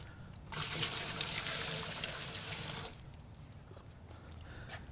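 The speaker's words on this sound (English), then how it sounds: "now I'm going to go in with 2 gallons of water." Water from a gallon jug gushes into a large cooking pot for steaming shrimp, a loud continuous pour lasting a couple of seconds before tapering to quieter trickling and faint background noise.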